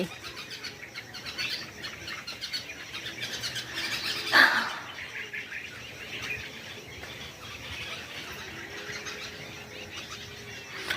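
Birds chirp and twitter from a nearby night jasmine tree over a steady insect hum, with one louder call standing out midway.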